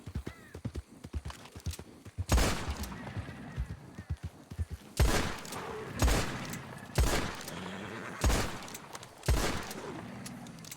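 Gunshots aimed at an alligator in Red Dead roleplay (WildRP): four or five loud, sharp reports at spaced intervals, each with a short echoing tail, over quiet footsteps and low ambient noise.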